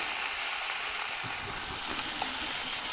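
A homemade heel-cream paste heats in a pan on a low gas flame, giving a continuous close sizzle and hiss with no talk over it.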